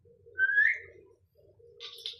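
Lovebird calls: a clear whistled chirp followed by a brief pause and a second higher call, with soft low cooing underneath, fairly close.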